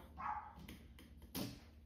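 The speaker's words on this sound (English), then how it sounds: "And Remington has decided to bark at leaves again today." A dog barks at leaves somewhere in the background, two faint, short woofs about a second apart, distant and alone.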